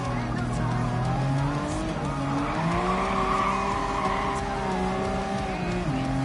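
BMW E30 race car in Gran Turismo 7, a loud sustained engine drone that rises and falls through gear changes, with tire squeal under a voice talking.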